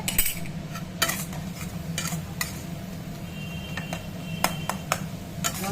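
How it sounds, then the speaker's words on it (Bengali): Masala spice paste frying in a pan, a soft sizzle beneath intermittent metallic clinks and scrapes of a spatula against the pan, close and fairly quiet, with no talk. "আমার মশলাটা কষা হচ্ছে"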